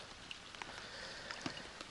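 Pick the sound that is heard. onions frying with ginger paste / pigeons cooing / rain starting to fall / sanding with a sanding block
rain starting to fall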